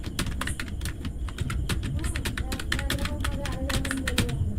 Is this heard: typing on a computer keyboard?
yes